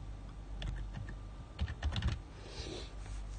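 Quick, irregular keystrokes on a computer keyboard while entering a download address, soft and close over a steady background hiss.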